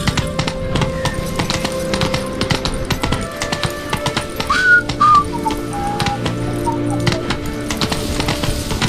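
Horse hooves clip-clop steadily in The Witcher 3, the regular hoofbeats running throughout over a background of ambient game sound, with a brief whistle-like tone near the middle.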